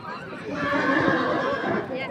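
A horse whinnies loudly nearby at a livestock market, over a busy background of people talking and milling about.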